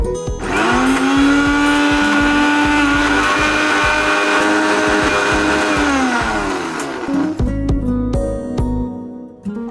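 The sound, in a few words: mixer grinder grinding soaked moong dal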